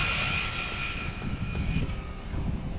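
An Arrma Typhon 6s TLR RC car runs at full throttle, giving off a loud, steady, high-pitched motor whine that holds without a break and without any talk.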